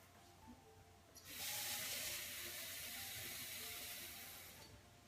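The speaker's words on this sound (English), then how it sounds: "I'm going to go ahead and add just a cup of water in both of these" Water pouring from a tap into pots of cooked pinto and black beans in a home kitchen, a steady close rush that starts abruptly and then tapers off.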